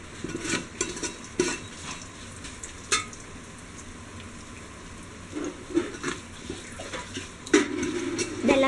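Ingredients for a Kerala-style beef biryani frying in ghee over a medium flame: a steady soft sizzle with scattered scraping stirs and clinks of a spoon against the pan, moderately faint and close.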